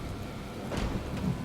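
Thunderstorm with steady rain, a rumble of thunder swelling mid-way over the continuous hiss of falling rain, no voices.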